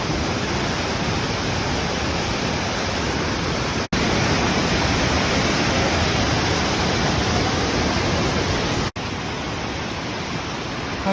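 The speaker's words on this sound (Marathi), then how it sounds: "एवढा जोरदार वॉटरफॉल आहे." A powerful mountain waterfall roars beneath an iron bridge on the Goecha La trek, a loud, dense, unbroken rush of water that fills everything, with two brief cut-outs and no voices heard.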